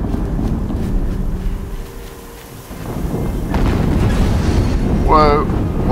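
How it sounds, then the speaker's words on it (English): Explosion in Horizon Zero Dawn booms low and rumbling amid continuous game ambience, swelling loudly after a brief lull, with a rising warbling tone near the end. "Another explosion."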